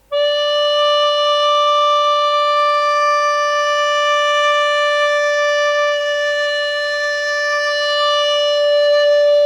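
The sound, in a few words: long note played on a recorder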